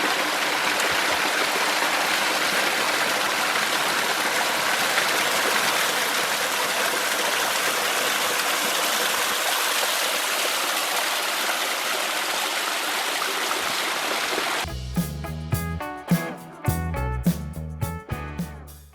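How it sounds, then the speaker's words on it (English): A small backcountry waterfall pours in a steady, full rush of falling water, loud and close, for most of the stretch. Near the end the wash gives way to a different, choppier sound. "Beautiful little waterfall just here."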